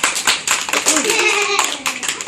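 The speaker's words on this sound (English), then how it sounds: "Let's give them another round of applause" Short burst of audience clapping for students after their class presentation, close and uneven, with voices mixed in.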